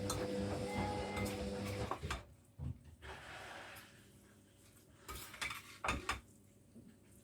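Christmas pudding ingredients, including lemon extract, being stirred together in a bowl, with a few clinking scrapes of a spoon against the bowl and soft mixing noises, close and moderately quiet, no talking.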